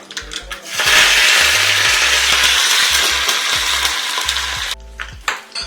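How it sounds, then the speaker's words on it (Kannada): Mustard and fenugreek seeds sizzle loudly in hot ghee as a tempering for tomato rasam. The sizzle is close, steady and hissing, rising suddenly after a moment, then cutting off near the end, with faint low knocks underneath. "ರಸಮ್ಗೆ ಒಗ್ಗರಣೆ ಹಾಕ್ತಾ ಇರೋದು. ಸಾಸಿವೆ ಮತ್ತು ಮೆಂತ್ಯ"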